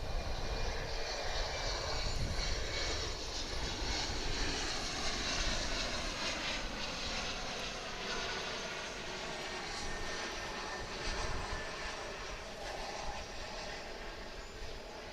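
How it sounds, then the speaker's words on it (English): A Mitsubishi CRJ 701ER regional jet at DFW airport produces a steady, loud engine roar with a broad rushing hiss that holds for the whole stretch and eases slightly toward the end. "It's a Mitsubishi CRJ 701ER."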